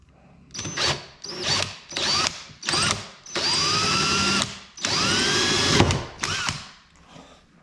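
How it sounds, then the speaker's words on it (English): Power drill boring through a 1/4-20 hole in the bottom of a Factory Five MkIV Roadster door, heard as a series of short whirring bursts that start and stop repeatedly, with two longer sustained runs, close and fairly loud. "now we're going to drill through that 1/4-20 hole in the bottom"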